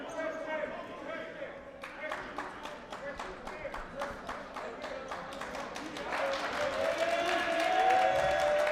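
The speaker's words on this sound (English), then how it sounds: "We have a good crowd here tonight and a very enthusiastic crowd." Crowd noise fills a college men's basketball game between Montgomery College and County College of Morris, with a steady rumble of voices, rhythmic ball bounces and claps, swelling louder near the end, while a voice talks over it.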